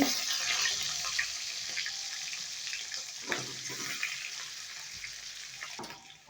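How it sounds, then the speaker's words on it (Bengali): Oil sizzles steadily as fish heads fry in a pan, a hissing, crackling wash with a few soft pops and clatters, fairly quiet and with no voices. "তেলটাকে ভালোভাবে গরম করে মাছের মাথাগুলো দিয়ে সুন্দরভাবে ভেজে নেব"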